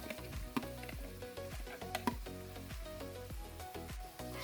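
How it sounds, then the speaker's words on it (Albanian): Three large onions frying in about 200 ml of hot oil in a pot, a steady dense sizzle with crackling pops running throughout, close and even, no voices. "unë kam ngrirë 3 qep të mëdha dhe do t'i skuqi"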